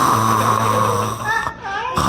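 A voice mimics snoring with a throaty, rasping drone held for about two seconds. It breaks off briefly, then resumes, loud and close.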